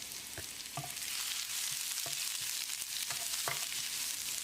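Garlic and cumin sizzle and crackle steadily in oil in a pan, with a few soft clinks of a spoon stirring; no one speaks.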